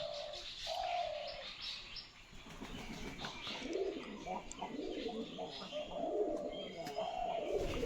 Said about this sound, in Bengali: পায়রাগুলো ঝগড়া করছে দেখো কীভাবে ঝগড়া করে ওরা